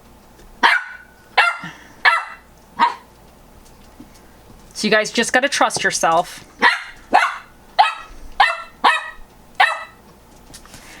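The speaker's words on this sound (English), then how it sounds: "Stop barking at your toy, honey." A dog barks repeatedly in sharp bursts, with a rapid flurry of barks midway, while someone talks between them.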